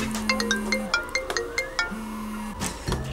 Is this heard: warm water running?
no